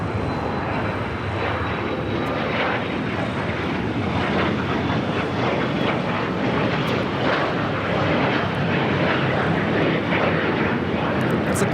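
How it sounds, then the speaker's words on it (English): A Gulfstream G280 business jet at LAX airport produces a loud, continuous engine roar that holds steady throughout, with no break or fade. "That's a Gulfstream G280"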